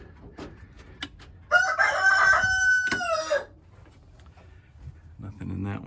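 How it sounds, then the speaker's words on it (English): A rooster crows once, loud and close, in a chicken coop, with soft clucking from hens before and after and a voice talking quietly nearby. "there are hens in there laying"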